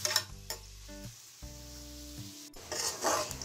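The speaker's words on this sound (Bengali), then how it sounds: "পেঁয়াজটাকে আমি হালকা বাদামি রঙে ভেজে নেব।" Onions and green chillies sizzle as they fry in a pan for mutton paya, a close and continuous crackle with scraping stirs and no voices.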